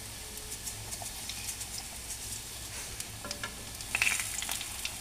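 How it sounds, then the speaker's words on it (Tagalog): Bananas fry in hot oil with brown sugar for banana cue, giving a steady, faint sizzle with scattered small crackles and a brief louder flare of bubbling near the end, with no voices. "pwede na nating iprito ang ating saging"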